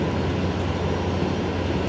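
A jet airliner at Brisbane Airport gives off a steady, broad engine roar with a low rumble, continuous and fairly distant, with no voices.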